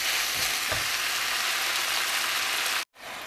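Stink beans and minced pork are stir-fried in a pan, giving a loud, steady sizzling hiss broken by a couple of dull stirring knocks and then a brief gap.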